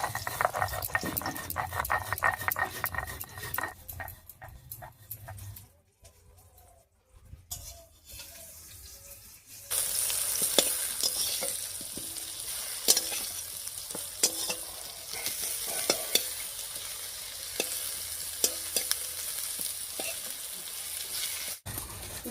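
Eggplant slices fry in hot oil in a pan, a steady close sizzle broken by stirring and clinks, with a quieter stretch midway before the frying noise returns loud.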